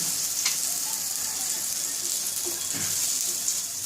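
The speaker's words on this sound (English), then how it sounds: "the idlis have been put on the pan for frying" Soft, steady sizzling of idlis frying in a little oil on a pan over low flame, with faint clinks and stirring noises, heard close.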